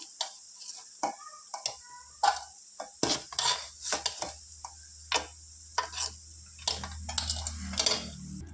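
Fried mutton pieces are moved with a metal spoon into another bowl in a home kitchen, a series of close, sharp clinks and scrapes of metal on metal with soft rustling between.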